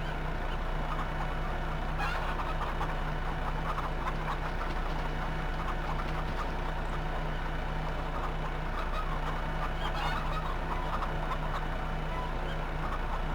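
Chickens cluck over a steady engine idle in Farming Simulator 15, a flock of around fifty birds heard amid continuous machine hum.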